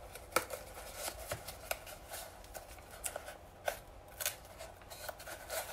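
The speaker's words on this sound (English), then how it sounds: "we're basically just going to put some tape on the end of it" Adhesive tape is pulled and pressed onto the end of a paper towel tube. Faint, close crackles and ticks come in irregular bursts in a quiet room, with no voices.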